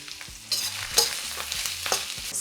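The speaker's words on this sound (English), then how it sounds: "Stir fry them for 2 to 3 minutes, stirring often until the onion starts to soften slightly" Onion and dried chillies stir-frying in a wok, a steady close sizzle broken by repeated scraping and clinking strokes of the spatula against the pan.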